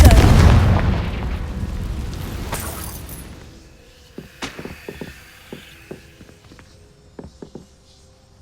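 Confringo spell explosion in Hogwarts Legacy: a loud booming blast that rumbles and fades over a few seconds, followed by sparse small clicks and pops.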